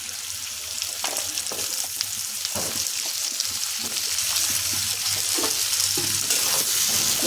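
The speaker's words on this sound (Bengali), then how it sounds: "কুমড়ো দেওয়ার পর এটা খুব ভালো করে কষাতে হবে। হাতে একটু সময় নিয়ে কুমড়োটা খুব ভালোভাবে ভেজে নিতে হবে।" Raw pumpkin pieces with skin frying in spice paste in a pan, a steady close sizzle punctuated by repeated scraping stirs of a spatula.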